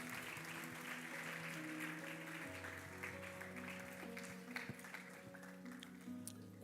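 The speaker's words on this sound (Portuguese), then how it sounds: "Toma o seu lugar aplaudindo ao Senhor." A church congregation applauds during worship, a soft wash of scattered clapping under sustained organ or keyboard chords, fairly faint and distant.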